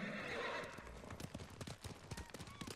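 Rapid hoofbeats clip-clop across the ground as a horse whinnies, loud and close, with a faint voice briefly calling out, in the video game Ghost of Tsushima.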